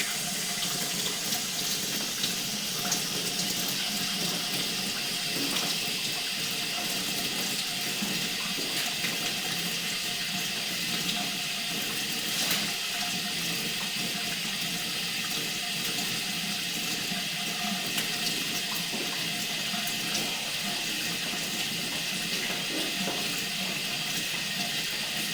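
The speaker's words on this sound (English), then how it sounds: "run some water in the stationary tub here" Water runs steadily from a faucet into a stationary utility tub, a continuous hissing splash lasting the whole stretch at moderate level with no voices.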